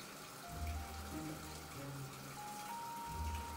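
A washing machine in Japan fills with about 27 liters of water, a steady rushing flow into the drum with low gurgling surges and faint electronic beeps, heard alone.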